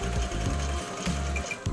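A sewing machine stitching a pocket runs in a close, loud, steady mechanical whir with rapid rhythmic needle clatter and a brief pause in the middle.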